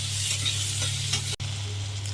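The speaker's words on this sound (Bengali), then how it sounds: "পেঁয়াজ কাঁচা লঙ্কা ভেজে নেব।" Onions and green chilies fry and sizzle in hot oil with a steady, close hiss, briefly broken by a quick stir, over a constant low kitchen hum.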